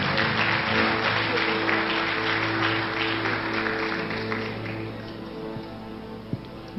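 A church congregation applauding together, a dense, steady burst of clapping that slowly fades over a sustained low musical tone in a large hall.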